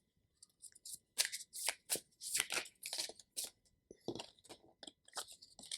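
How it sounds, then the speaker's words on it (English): A deck of oracle cards being shuffled, with close, crisp riffling bursts and soft card slaps recurring through the whole stretch, quiet overall with no talking. "I feel like pulling out an advice card for you guys."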